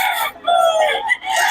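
A rooster crows at a poultry sale, a single short bright call with a rising then held note, loud and close, with no talk over it.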